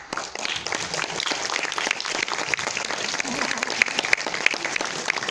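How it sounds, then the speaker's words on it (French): An audience applauds a choir with a thick, continuous wash of clapping that holds steady for several seconds, with a few sharper individual claps standing out near the end. "je voudrais que vous les applaudissiez très fort"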